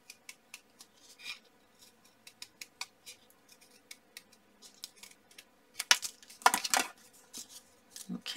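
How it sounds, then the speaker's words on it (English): Scissors snipping around a line on card stock for circle cards, with a string of quiet, close, irregular clicks and a louder flurry of cuts near the end. "So I'm going to cut inside of that line"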